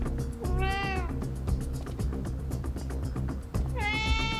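A cat meows twice, one drawn-out meow near the start and another near the end, over a low, steady background hum.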